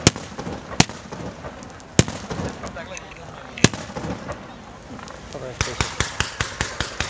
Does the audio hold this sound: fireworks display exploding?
yes